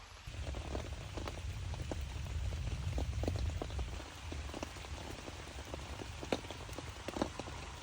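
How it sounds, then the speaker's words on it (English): Steady rain falls at night in a continuous wash during a summer storm at a carp fishing lake in Kent, with scattered individual drops ticking close by against a hard surface. "It's been raining for about 45 minutes"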